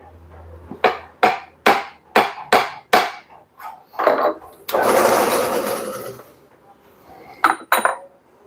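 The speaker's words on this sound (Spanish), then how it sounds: "Vamos a colocar el martillo." A hammer strikes a cardan driveshaft in a series of sharp metallic blows, about eight in quick rhythm, followed by a longer scraping rasp and two more taps.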